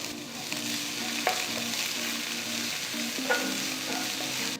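Finely chopped onion and cumin seeds frying in oil in a pan, a continuous close sizzle and crackle with a couple of sharp spatula clicks and a faint background hum, no voices.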